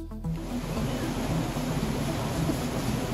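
A sudden heavy rainstorm pours down in a steady, dense roar that fills the whole stretch, with a low rumble underneath that may be thunder; no voices are heard.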